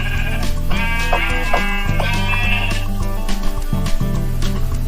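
Sheep bleat in a Minecraft-style survival video game, several overlapping wavering calls repeating across the whole stretch, loud and close over a steady backdrop of game sounds, with no talking.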